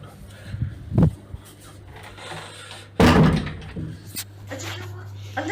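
Doors bang and slam in a dark indoor space. Two loud sharp impacts come about two seconds apart, the second heavier and ringing longer, with smaller knocks, a constant low hum and speech around them.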